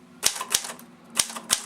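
Vintage Commodore typewriter typing: four sharp, loud key strikes spaced irregularly over a couple of seconds, close and alone with no talk.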